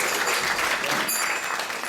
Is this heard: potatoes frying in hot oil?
no